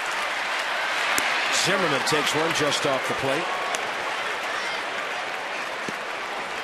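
A big baseball stadium crowd of about 38,000 roars steadily in the 8th inning, a loud sustained wash of cheering under a play-by-play announcer's voice.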